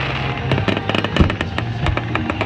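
Fireworks burst in a rapid string of sharp cracks and pops, loud and fairly close, with a crackling rumble between blasts and no talking.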